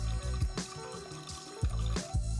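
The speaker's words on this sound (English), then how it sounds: "So I'm going to top it up with some water," Lukewarm water poured from close by into a beer and flour mixture for hops bread, a steady trickling fill with gurgles and small splashes that keeps going for the whole stretch.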